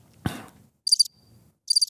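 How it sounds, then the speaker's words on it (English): Cricket chirps come as two short, bright pulsed bursts separated by a pause, clear and fairly close against near silence, following a brief low thump. "Crickets."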